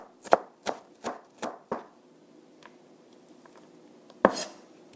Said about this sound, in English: I like to give it one last chop.